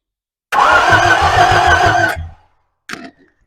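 A big Chevy C30 truck engine cranks and catches, roaring loudly for about a second and a half before cutting off, followed by a short, sharp second burst up close.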